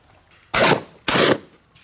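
Two loud shotgun blasts ring out about half a second apart during a duck shoot, each a sharp broadband crack with a short decaying tail.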